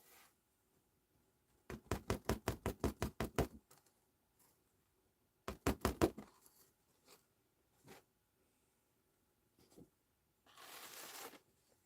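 Stiff scrap paper is tapped against a surface to knock off loose black embossing powder, giving two quick bursts of rapid, evenly spaced taps, followed by a few isolated light knocks and a short brushing hiss; the sounds are close and there is no talking.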